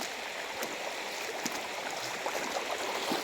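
River water flows steadily with a broad rushing wash and light splashes during a shallow, muddy river crossing, close and continuous, no talking.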